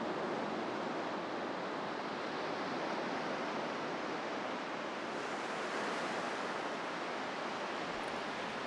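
Ocean waves wash onto a shoreline where red crabs migrate, a continuous broad surf roar with no voices, steady and fairly distant.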